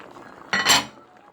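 A metal stew pot and cutlery clink in a single short burst of bright knocks while a vegetable and pea stew is checked, close and fairly loud against quiet kitchen background.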